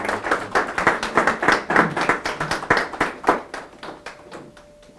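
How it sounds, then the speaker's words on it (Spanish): Audience applause for a teacher at a seminar on Mexican trade agreements, with dense hand clapping at a steady pace that thins toward the end, close and moderately loud. "Un aplauso para el maestro."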